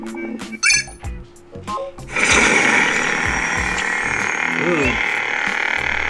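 A Sabertrio lightsaber set to its Nebula sound font ignites with a sudden bright burst, then holds a loud, steady, somewhat musical hum; a person makes short vocal sounds just before the ignition.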